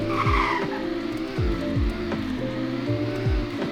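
A Ferrari FF engine roars on a top speed run, a steady loud drone with repeated drops as gears shift, heard close with no voices.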